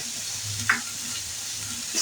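Chicken and vegetables stir-fried over a low flame with salt, vinegar and soy sauce, a soft continuous sizzle with a couple of faint utensil scrapes, no talking.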